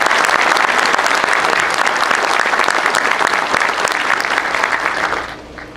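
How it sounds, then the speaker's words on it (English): A community meeting audience gives a steady, dense round of applause that stays loud throughout and then tapers off near the end, with no talking over it. "How about a round of applause?"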